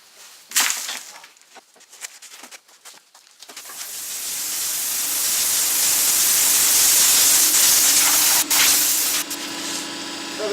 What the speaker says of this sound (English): I'm just gonna use some air and blow all that out